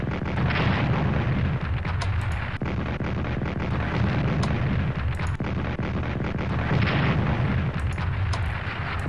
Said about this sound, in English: So let's bomb them. Artillery.